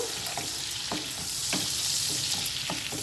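Onions fry in a pan with soya chunks cooking, giving a continuous bright hiss with occasional soft scrapes and taps of stirring up close, and no voices.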